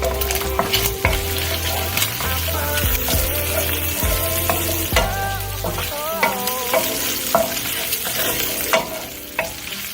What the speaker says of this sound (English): So while the fat is being continued to render off of here